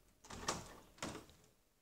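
The closet door of a toy Lego house is opened, giving two short, close knocking scrapes about half a second apart.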